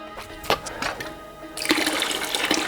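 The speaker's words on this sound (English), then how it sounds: "so I'm just going to siphon out" Water from a small planted aquarium siphoned out during a water change, trickling and splashing softly at first, then becoming a steady, close gushing flow.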